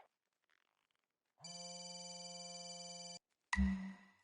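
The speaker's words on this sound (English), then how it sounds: "Is that the phone I'm calling?" Telephone ringing indoors in a building in theHunter: Call of the Wild, set in Yukon Valley: one sustained electronic ring lasting under two seconds, then a short gap and a sharper second burst, with no talking.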